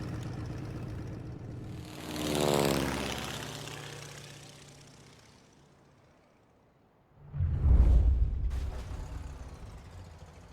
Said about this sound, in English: square ass plane.